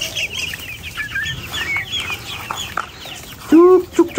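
Serama chickens cluck and chirp close by in a steady scatter of short calls, ending with a louder, drawn-out call from one bird. A voice may murmur faintly underneath.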